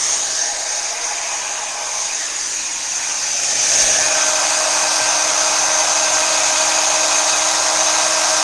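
An embossing heat tool blows steadily over embossing powder on a Christmas card, a continuous close whooshing hiss that grows slightly louder partway through, with no talking.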